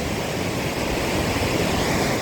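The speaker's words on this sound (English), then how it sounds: "Here's Drake Falls, a 27-foot drop." Drake Falls, a 27-foot waterfall dropping into a big pool in a canyon, roars as a steady, loud, broadband rush of falling water, unbroken throughout with no voices.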